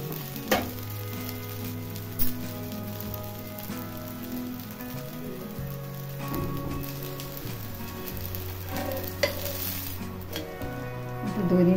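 Spinach ghavne batter sizzles steadily in a hot pan over a raised flame, a continuous close crackle broken by a few sharp clinks of utensils, with low tonal hum running beneath.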